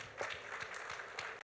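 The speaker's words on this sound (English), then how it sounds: "don't clap me, clap them." Audience applause at an energy event, a soft, continuous patter of many hands with a few louder claps, heard from a distance before cutting off abruptly.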